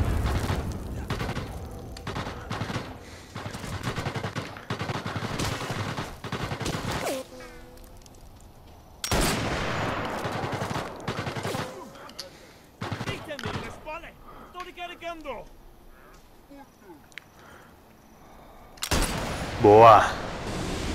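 Gunfire in the VR shooter Sniper Elite VR, with bursts of shots and a boom scattered across the clip, mixed with someone talking between volleys and a sharp loud report near the end.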